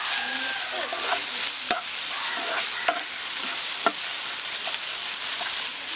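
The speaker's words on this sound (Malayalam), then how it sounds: "എന്നിട്ട് ഒന്നുകൂടി ഒന്ന് ഇളക്കി ഒന്ന് വാട്ടാം" Green chilli, ginger and garlic being stirred and sautéed in a pan while making meen polichathu, with a steady close sizzle of frying and occasional sharp scrapes and clicks of the spoon against the pan, no voices.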